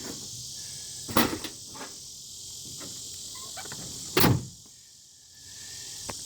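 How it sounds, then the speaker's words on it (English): A 2006 Nissan Titan tailgate is shut, landing as a sharp, loud slam that rings briefly, with a smaller knock earlier, all over steady insect-like hiss and outdoor stillness at a camp setup. "And let me shut my tailgate."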